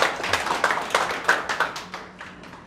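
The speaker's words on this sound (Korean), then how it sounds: "맞으면 이제 박수를 한번 크게 시작하고 합시다." A lecture audience claps in loose rhythmic bursts, a few strong, close claps fading gradually over a couple of seconds.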